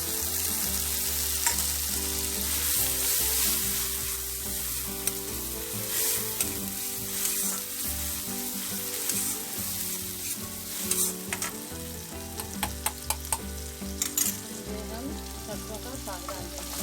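Masala with tomatoes frying and being stirred in a pan for Punjabi-style sarson ka saag, a steady loud sizzle throughout with scraping stirs and a few sharp clinks of a spoon against the pan near the end.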